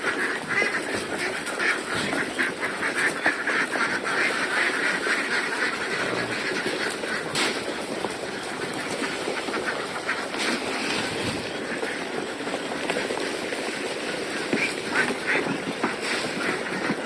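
Laying ducks about six and a half months old quack steadily and in overlapping bursts at feeding time, a dense, continuous flock chorus heard close up with no talking.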